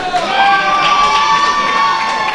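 Wrestling crowd at a SideShow Wrestling match cheering loudly for Brandon Cutler, a dense, sustained roar of shouting voices with a steady high-pitched whistle-like tone running through it.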